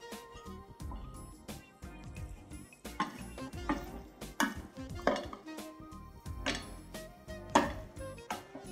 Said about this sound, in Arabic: نقلب تقليبة كويسة.